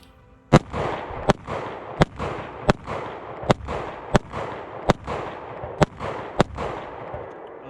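Shadow Systems MR920 pistol fired in a steady string of eleven sharp, loud shots about half a second apart, each crack ringing with echo at an outdoor range, with no talk.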